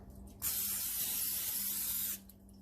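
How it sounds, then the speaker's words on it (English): A single steady hiss of cooking spray from an aerosol can onto both sides of a tomato basil wrap on a wire rack, lasting under two seconds, close and clear. "Spray both sides."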